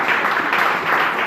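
A church congregation at a Sunday service offers acclamation, producing a brief burst of dense, steady clapping and crowd noise, close and fairly loud throughout.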